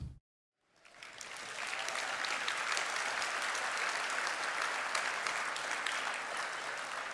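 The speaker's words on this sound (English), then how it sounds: "One more round of applause for 2 of tonight's inductees, Tamika Catchings and Shamiqua Holesclaw." Sustained applause from a large banquet audience honoring Tennessee Sports Hall of Fame inductees, starting after a brief silence and holding steady and loud to the end.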